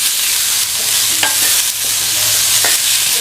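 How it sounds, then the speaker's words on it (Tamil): Boiled, drained chickpeas for sundal are tossed and stirred in a pan, making a loud, steady frying hiss broken by a few scraping strokes. "இந்த தண்ணியை வடித்த சுண்டலை சேர்க்கணும். சேர்த்து நல்லா பரட்டி விட்டுக்கணும்."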